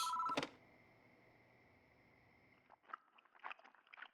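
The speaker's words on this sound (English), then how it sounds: "I hear a noise like someone chewing gum from the other end of the phone." Over a phone line in the horror game Spirit Hunter: Death Mark, wet chewing of gum comes through as faint irregular smacks and crunches after a brief ring cuts off and a low hum lingers.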